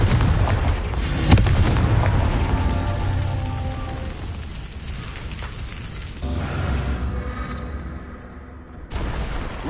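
A Confringo fire spell bursts in Hogwarts Legacy with a sharp boom near the start, followed by crackling, rumbling debris noise that fades and then surges again toward the end.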